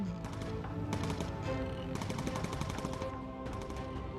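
Machine gun fire from the aircraft turrets in the bomber video game Bomber Crew, rapid bursts of rattling shots coming in several volleys with short pauses between them.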